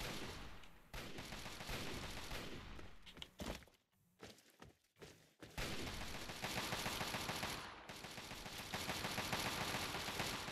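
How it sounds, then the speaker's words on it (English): Dense, continuous gunfire from Fallout 3 among the Capitol Building ruins, loud rapid bursts and thuds filling most of the stretch, with a brief lull midway before the shooting resumes. "I hear a lot of shooting"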